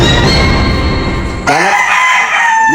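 A rooster crows loudly and close by, with a rough, harmonic call in a room where chickens are kept indoors with air conditioning. No one speaks.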